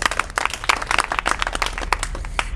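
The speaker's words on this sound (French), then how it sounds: "je vous demande d'applaudir" An audience at a Malian political gathering applauds, a dense patter of many hands clapping at a steady close level, without speech over it.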